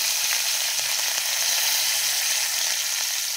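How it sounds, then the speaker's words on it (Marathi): Green chilies and curry leaves sizzle in hot oil along with cumin, mustard seeds and asafoetida, giving a loud, steady, close crackling hiss with a few faint clicks and no talking. "तर लगेच आपण हिरवी मिरची आणि कढीपत्ता टाकणार आहोत."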